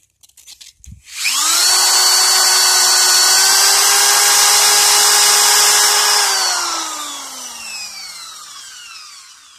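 Sandpaper rubbing PCB material to make a flashlight gasket: a steady, high-pitched whirring grind runs for several seconds, close and loud, then its pitch drops and it fades out as the rubbing slows.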